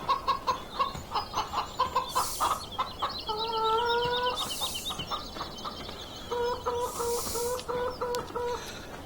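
Several video game chickens in Farming Simulator 17 cluck and squawk in short bursts, with a few higher calls mixed in, fairly close and lively, no talking.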